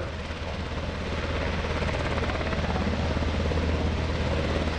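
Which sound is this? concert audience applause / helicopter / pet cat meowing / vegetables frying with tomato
helicopter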